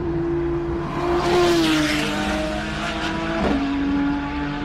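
A race car on a timed run at the Simola Hillclimb 2025 King of the Hill finals, its engine whining steadily and rising before a quick shift drops the pitch, loud and fairly close with a hint of tire squeal.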